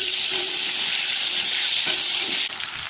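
Potatoes fry in hot oil for a rui fish and cauliflower dish, a loud, dense, continuous hiss of sizzling close by with faint stirring underneath, shifting slightly just before the end; no talking.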